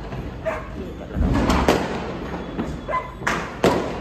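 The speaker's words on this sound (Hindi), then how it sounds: "बहुत पटाखे फूट रहे हैं" Firecrackers bursting outside during Diwali, a series of sharp bangs and thuds at irregular intervals, some near and some farther off, against a background murmur.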